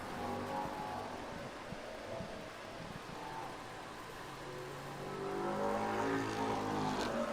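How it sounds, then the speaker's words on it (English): Race car number 21 running a timed lap at Thunder Road Speedbowl, its engine a steady distant roar that swells louder near the end as it passes, amid open-air track noise. "White flag coming out for Tardif to complete his first lap of time."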